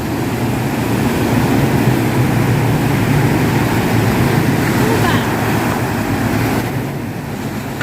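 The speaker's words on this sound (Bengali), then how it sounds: "সমুদ্রের আওয়াজ শোনাই একটু" Sea waves at Kite Beach, Dubai, on the Gulf, with a windy day making the surf stronger; a steady, loud wash of surf and wind rolls on without a break and eases slightly near the end.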